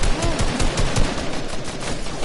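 Rapid bursts of Fortnite gunfire crackle throughout, dense overlapping shots loud and close, with a faint voice underneath.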